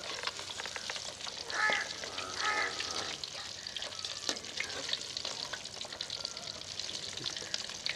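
Fish pieces frying in hot oil in a karahi, a steady close sizzle and crackle with a few louder bubbling spurts, heard alone without talk.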